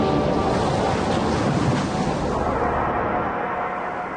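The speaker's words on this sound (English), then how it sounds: "Look at the waves, Mina." Ocean waves wash and roar with spray in a steady, loud broadband rush, easing slightly toward the end, with no voices heard.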